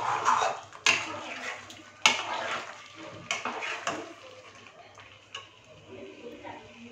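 Chicken changezi stirred in a pan after salt is added: sharp spoon scrapes and clinks against the pan at irregular intervals over a soft wet sizzle, close and fairly quiet.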